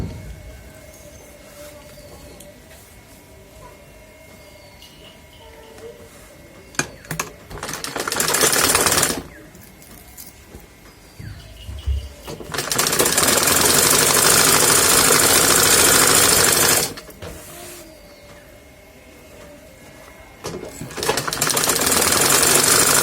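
A sewing machine stitches the waistband of a salwar pajama in three loud, steady bursts of rapid whirring, separated by quiet pauses with faint handling sounds.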